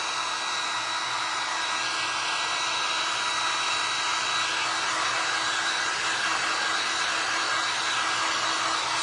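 A hair dryer blows continuously on resin and glass pumpkin art, a loud, steady, even roar with no speech over it.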